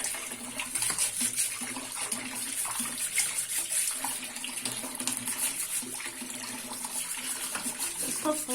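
Food being washed for a traditional Pakistani dish under a running tap: a constant bright gush of water into a sink with small splashes and shifts in flow, close and fairly loud throughout.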